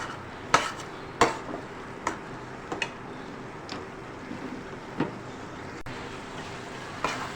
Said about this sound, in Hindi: अब हम इसकी भुनाई करेंगे, 2 से 3 मिनट में तमाम भुनाई हो जाएगी।